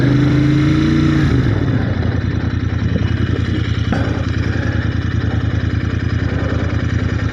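A motorcycle engine runs steadily on the first ride of the year, a loud, close, even throb that drops from a higher-pitched rev to a low, rhythmic idle-like chug and holds there.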